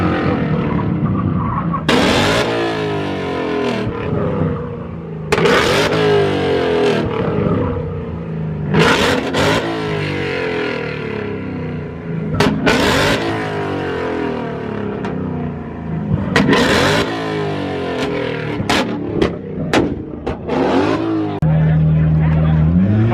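A loud Mustang engine revs hard at a Las Vegas car meet, repeated roaring bursts with tire squeal and crowd chatter, people talking throughout near the car.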